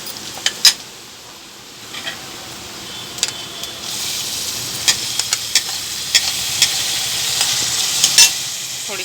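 Chopped onion and tomato fry in a pan with a steady, bright sizzle, and occasional sharp clicks of a utensil against the metal break through up close.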